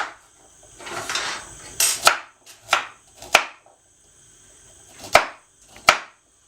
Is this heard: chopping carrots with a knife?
yes